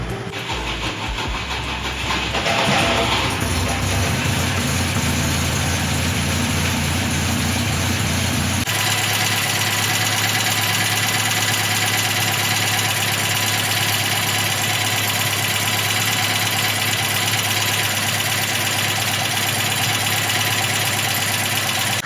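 A Volvo 142 engine idles steadily with a deep rumble and faint ticking puffs from exhaust leaks, the pitch settling slightly after a few seconds.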